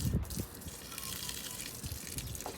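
A houseplant being watered, a soft gush and splash of water into soil that starts with a few bumps and continues steadily, close and fairly quiet.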